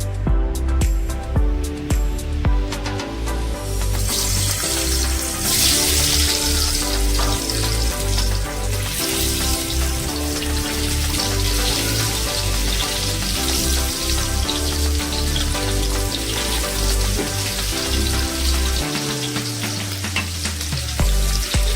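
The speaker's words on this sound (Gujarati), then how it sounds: "તો હવે આપણે પહેલાં બટેટાને તળી લેવાના છે" Potatoes deep-fry in oil for aloo dum with a constant hissing sizzle, partly masked by steady background music throughout.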